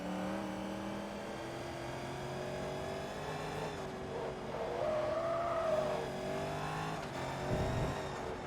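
A Corvette in the Forza Motorsport 2 racing game, its engine droning steadily as the tires squeal through a long slide, the pitch wavering, with a brief louder burst near the end.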